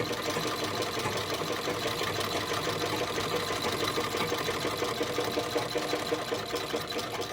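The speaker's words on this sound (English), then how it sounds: "I do a diagonal stitch." A restored Singer VS2 sewing machine runs a diagonal stitch with a steady, fast mechanical whirring and clatter, close and continuous throughout with no pauses.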